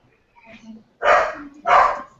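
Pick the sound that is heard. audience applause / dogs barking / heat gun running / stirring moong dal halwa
dogs barking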